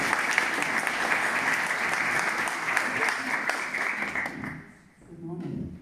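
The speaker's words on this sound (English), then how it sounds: "Can we give her a round of applause?" Sustained applause from an audience at a writers' retreat, steady and full for several seconds before thinning out and fading near the end.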